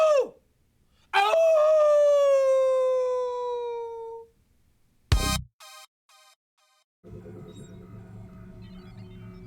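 A long, drawn-out wolf howl sounds as a comedy sketch effect, rising and then sliding down over a few seconds, followed by a sharp burst and a brief jumble of electronic noise.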